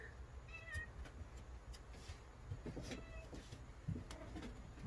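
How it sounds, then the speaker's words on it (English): A cat meows faintly a few times somewhere close by outdoors beside a grill cooking ribs, with pigeon-like coos mixed into the quiet background. "Just heard a cat meow."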